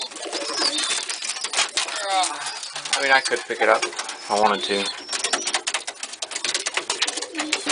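White pigeons coo softly and intermittently close by in a breeding loft, heard beneath someone talking through most of the moment.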